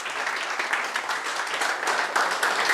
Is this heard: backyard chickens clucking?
no